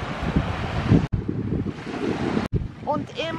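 Sea surf rushing along a Tuscan coast with a ferry nearby, a steady broadband wash with wind buffeting the microphone, two brief dropouts, and faint chirping or squeaky tones near the end.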